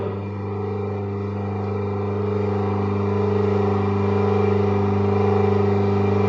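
A single-phase induction motor hums steadily during a direct load test at about 210 volts, a strong low tonal drone with harmonics that swells slightly as voltage rises, close and continuous without speech.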